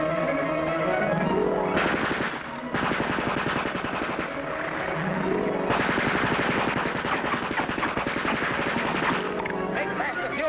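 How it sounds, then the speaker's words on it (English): Rapid machine gun fire from a two-man submarine crew's gun bursts out loud and close in sustained rattling volleys, pausing briefly and resuming, with a dense war-scene din around it. "Man the machine gun."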